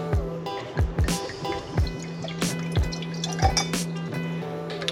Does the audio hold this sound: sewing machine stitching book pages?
no